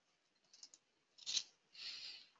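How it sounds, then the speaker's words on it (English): A paper page being turned in a quiet room: two soft, brief rustling bursts a moment apart, faint and alone. "sometimes I wonder if you just heard me turning a page there"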